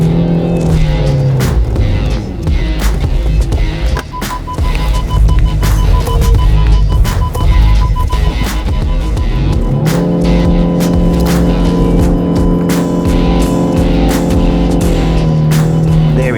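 An off-road vehicle on all-terrain tyres claws out of a deep mud hole, its engine droning loud and steady with shifting revving tones and rough, gritty churning throughout.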